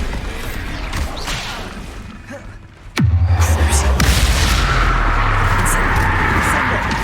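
A Bombarda blasting spell cast in Hogwarts Legacy hits with a sudden sharp crack and boom, followed by a long rumbling, crackling tail. A voice can be heard faintly before it.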